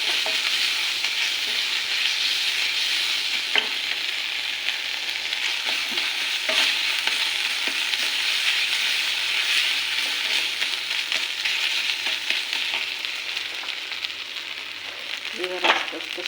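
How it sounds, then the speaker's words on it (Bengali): Ginger garlic paste frying in a pan while being stirred, a steady bright sizzle throughout with scattered scraping and clinking of a spoon against the pan, close up and without speech. "এক চামচের মতো আদা রসুনের পেস্ট দিলাম। একটু নেড়ে নেব।"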